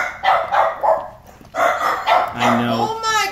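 Several dogs bark in quick yapping bursts, close and loud, reacting jealously to a Great Dane, with a person talking over them throughout.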